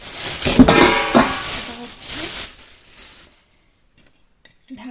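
Clattering and clinking as a new rice cooker's transparent lid is handled during unboxing, a few seconds of busy knocks fading to near silence with one late tap.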